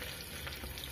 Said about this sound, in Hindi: अब देखिए हमारे तेल गर्म हो गए, तो सबसे पहले हम डाल देंगे जीरा और